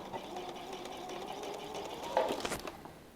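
Sewing machine with a quarter-inch foot stitching 2.5-inch quilting fabric strips together, a steady low hum of running stitches that ends with a brief rattle, heard close and alone.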